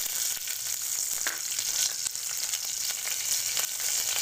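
Curry leaves hit hot oil while cooking a potato stuffing for masala dosa, giving a steady loud crackling sizzle with scattered sharp pops close by and no voices.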